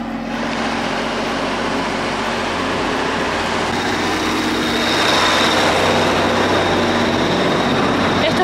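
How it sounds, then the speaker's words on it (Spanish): A large tractor drives past on a road, its heavy engine rumble growing louder and closer toward the end, with some broadband noise around it. "viene un tractor enorme a cagarme toda la filmación"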